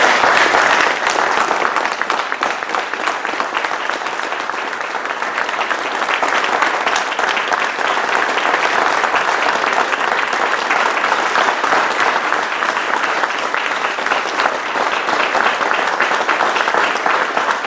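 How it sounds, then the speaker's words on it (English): Sustained audience applause at a Gate City Rotary club meeting, a dense, steady roomful of clapping holding at even loudness for the whole stretch without any talk over it. "I just want everybody to give her a huge round of applause"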